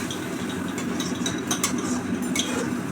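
Spice paste with cashews, melon seeds and raisins, loosened with a little water, is stirred and fried in a pan for an egg malai curry: a steady low scraping churn with light metallic clinks of the spoon, continuous and close.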